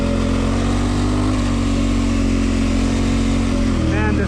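Big motorcycle cruising along open roads, a loud, continuous close engine note with steady wind roar that shifts slightly near the end.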